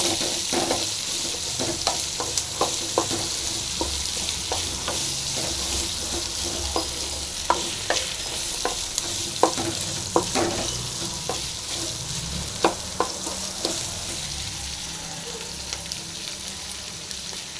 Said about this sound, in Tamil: அடுத்தது பச்சை மிளகாய் இது மாதிரி நல்லா ஃப்ரை ஆகட்டும்